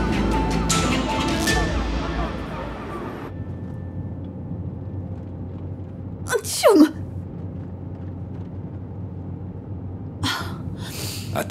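A single sharp sneeze cuts through a quiet room with a low background hum, followed later by a brief breathy sound.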